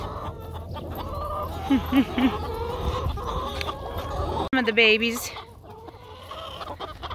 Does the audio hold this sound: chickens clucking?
yes